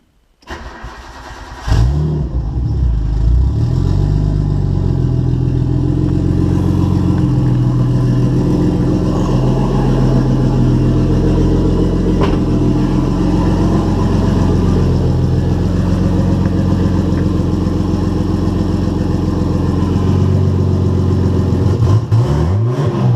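A Nissan R32 Skyline with an RB20 engine, big manifold and big turbo cranks briefly and fires up, then settles into a loud, steady idle close by, with a small blip near the end.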